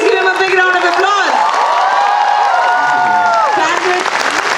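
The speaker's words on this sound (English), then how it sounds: "Please give him a big round of applause." Auditorium crowd at a film festival session applauding and cheering, loud sustained clapping with whoops and shouts layered over it throughout.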